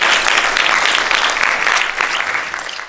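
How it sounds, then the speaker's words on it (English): A talk audience breaks into loud, dense applause that fills the room steadily and tapers slightly toward the end. "Give yourself a round of applause for participating."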